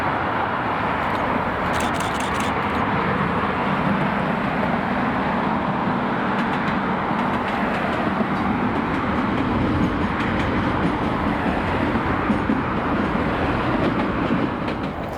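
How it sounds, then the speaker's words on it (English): Class 318 unit 318255 passes over a series of bridges on a Yoker to Kilmarnock run, a sustained, loud roar of wheels and carriages with faint rhythmic clatter lasting the whole time. "The return would be 5Q08, the 1359 Yoker to Kilmarnock, seen passing over the variety of different bridge structures just outside of Party"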